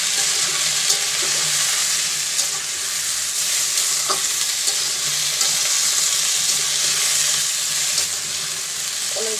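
Greens sautéing in a pan with green chili, turmeric and salt, giving a steady, loud sizzle and hiss throughout with faint scraping stirs.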